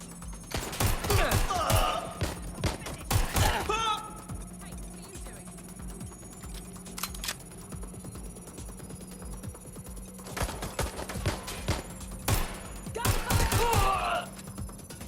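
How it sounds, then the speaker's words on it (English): Bursts of gunfire from the video game Watch Dogs: Legion come in rapid clusters at the start and again near the end, with a quieter stretch of game ambience between and radio-style voices speaking over it. "Suspect is open fire at teams!"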